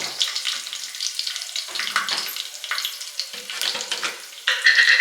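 Cumin seeds and three cut green chillies frying in hot oil for jeera rice, a steady bright sizzle throughout that swells louder near the end.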